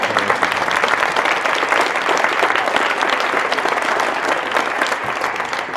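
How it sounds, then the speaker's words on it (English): A school audience applauds steadily during a fourth grade devotional gathering, a dense, even wash of many hands clapping for nearly six seconds with no breaks. "Let's give him a big round of applause."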